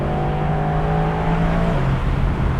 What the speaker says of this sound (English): I mean, turbo lag, is there any? Foot down.